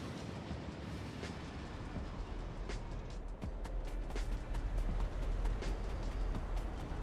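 Trains run in the Factorio video game, a steady, faint rolling rumble with scattered clickety-clack ticks building slightly over several seconds, heard alone with no talk.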